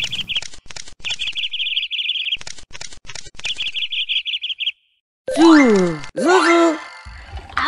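Cartoon birds in a firefighter kids' video game chirp in repeated high, bright bursts with a rhythmic ticking beneath, followed by sliding, groaning character vocal sounds; game audio only, fairly loud.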